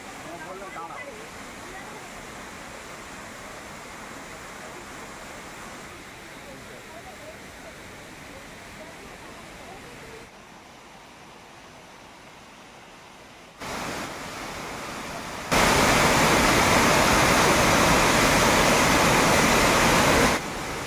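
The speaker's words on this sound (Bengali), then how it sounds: "দেখুন ওয়াটারফলসগুলো উপর থেকে জল আসছে দুই সাইড দিয়ে" The waterfall at Ayodhya Hills in Purulia gives a constant broad rush of falling water, with people talking over it and the roar growing much louder toward the end.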